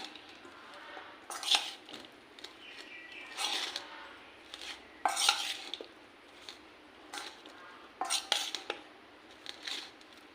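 Pieces of elephant apple being mixed with turmeric in a bowl, with intermittent scraping and clinking bursts of a spoon against the dish in an otherwise quiet room.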